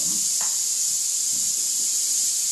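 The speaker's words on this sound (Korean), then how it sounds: "지금 비와식 에코매직 쿠커 용기를 이용해서 발열체하고 물하고의 반응으로 지금 라면 두 개의 물을 지금 끓이고 있습니다" Water for two packs of ramen heating in a flameless Biwa-style Eco Magic cooker, where a heating element reacts with water and produces a loud, continuous high steam hiss with a few faint bubbling sounds underneath.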